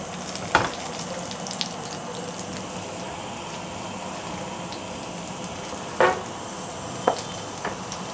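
Food fries in mustard oil in a pan with a constant crackling sizzle, punctuated by a few sharp clicks and knocks of utensils, close up and with no voices.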